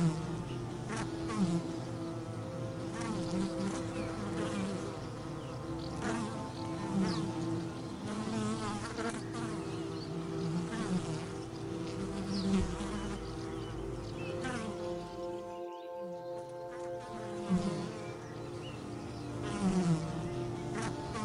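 Bees gather pollen on a spring tree, making a steady, soft buzzing that swells and fades continuously over a gentle background.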